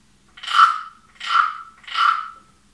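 A frog percussion instrument, a wooden rasp, is scraped three times in a steady rhythm, each stroke a swelling croak-like rasp, close and clear with no talking.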